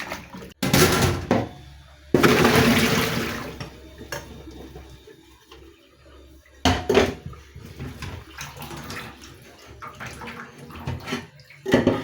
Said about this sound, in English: I will pour water inside to just rinse it before we proceed.